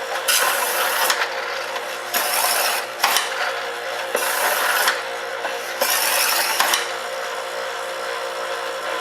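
A kitchen knife is drawn repeatedly along a honing rod, giving a series of bright scraping strokes about a second each in a steady back-and-forth rhythm, close and loud, with brief pauses between strokes.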